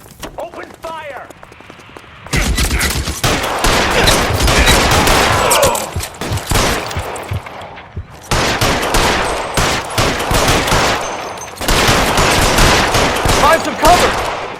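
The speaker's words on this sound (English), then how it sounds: "Open fire!" Gunfire in a shootout in the video game L.A. Noire: loud bursts of rapid shots and volleys come in several long stretches separated by short pauses, with voices heard around them.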